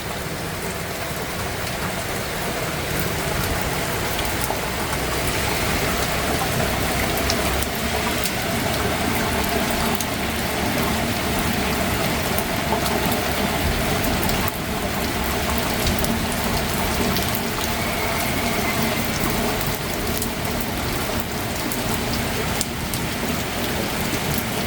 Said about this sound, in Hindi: यहाँ पर लगातार बारिश हो रही है